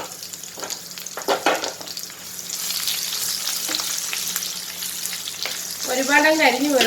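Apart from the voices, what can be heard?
dried curd chillies frying in hot coconut oil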